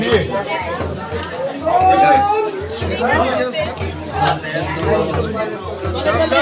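A dense crowd of people at the Dhom Dhom Dawal Malik Baba shrine near Antapur, Nashik, chatters and murmurs in a continuous close babble of many overlapping voices.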